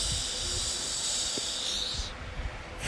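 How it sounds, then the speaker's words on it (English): A chicken nugget test piece dropped into hot oil on medium heat gives a steady close hiss that cuts off sharply near the end, followed by a brief clatter. "There I am putting my test piece to fry."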